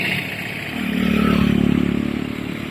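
Motorcycle passing along a village road, its engine drone swelling as it comes near and then easing off, loud and close for a few seconds.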